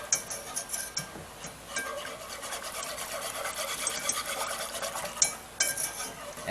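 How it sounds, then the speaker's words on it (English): A metal whisk stirs apple gravy in a pan for pork chops, a close, steady scraping and clinking rhythm with quick repeated strokes and no talking. "And you're just going to start whisking this around."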